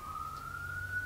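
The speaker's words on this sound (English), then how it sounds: "Let this siren pass." An emergency vehicle siren sounds outside as a steady, slowly rising wail, moderately loud and continuous over a low background rumble.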